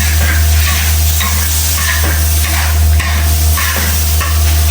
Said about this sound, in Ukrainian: Трішки спецій. І перемішуємо.